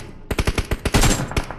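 A loud, rapid burst of automatic gunfire from the video game BGMI, about a dozen sharp shots in quick succession, heard alone without talk.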